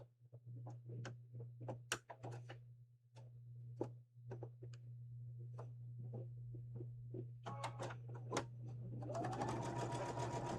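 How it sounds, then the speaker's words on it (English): A sewing machine stitches fabric in short bursts, sharp close ticking pulses over a steady low motor hum, ending in a faster continuous run. "hold your breath, and then sew"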